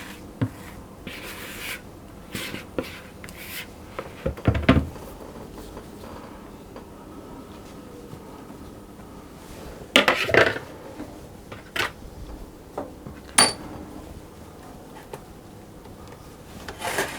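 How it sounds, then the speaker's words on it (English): A spatula spreads cake mixture across the base of a baking tin for a German sunken apple cake, making close, intermittent scraping and tapping strokes with quiet pauses between them and no talking. "I'm going to spread it across the base to level it off"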